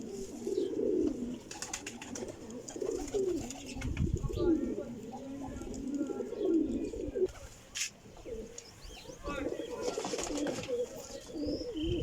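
A flock of flying pigeons coos continuously at close range, a dense, overlapping murmur of low throaty calls with occasional chirps and someone talking quietly in the background.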